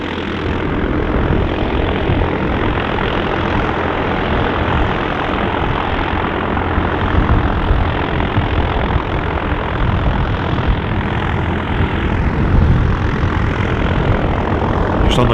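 A light aircraft flies the circuit near Manchester City Airport, a loud, steady propeller-engine drone that stays close and constant throughout without fading in or out.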